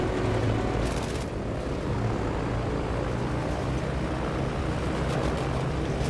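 Bomber plane engine in a Battlefield online game, a continuous close droning roar that holds steady throughout with no voices over it.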